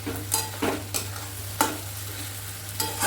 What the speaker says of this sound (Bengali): মশলাটা দিয়ে একটু কষিয়ে নিচ্ছে